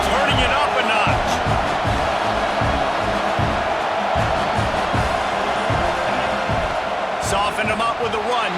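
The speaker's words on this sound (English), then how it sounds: "this crowd is turning it up a notch" Stadium crowd roaring in a college football video game, a dense steady roar with thumping rhythmic stomping that builds, under continuous play-by-play commentary.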